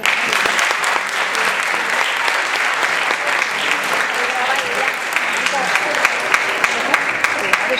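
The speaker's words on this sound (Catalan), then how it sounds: "Un fort aplaudiment." Strong, sustained applause from an audience at a secondary-school instrumental ensemble gathering, steady and dense throughout with sharp individual claps standing out near the end.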